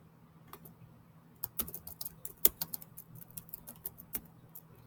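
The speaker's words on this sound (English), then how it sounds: "I'm having trouble typing." Someone types on a computer keyboard, quick irregular clicks of keys in short bursts, close but quiet, with no talking.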